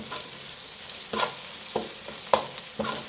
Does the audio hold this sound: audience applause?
no